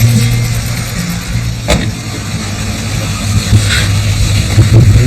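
Inside a car driving past a primary school in Cuba, a loud steady engine and road rumble holds throughout, with a faint knock or two and no talking.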